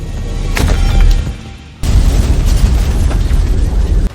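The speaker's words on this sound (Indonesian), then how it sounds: "Bom pun langsung meledak di apartemen Max." A bomb explodes in an apartment with a heavy boom, followed by a second blast and a rolling, rumbling roar of debris and noise.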